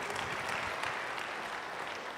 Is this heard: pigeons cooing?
no